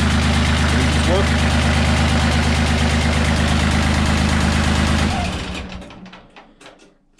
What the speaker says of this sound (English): just in case you couldn't hear me over the engine